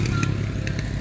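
A motorcycle with a cracked, damaged part runs on the Marilaque road with a close, loud, throbbing engine rumble and a few rattly ticks, heard alone for a moment.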